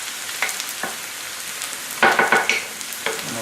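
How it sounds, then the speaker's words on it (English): Meat frying in a pan for stuffed peppers gives a soft continuous sizzle, with scattered crackles and a few brief bursts of louder spattering, close and fairly quiet, with no voices. "Fry a little bit."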